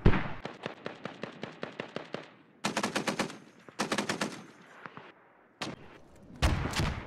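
Machine gun fire in the military shooter game Squad, long rapid bursts of sharp automatic shots with short pauses between them, loud and close, with no talk over it.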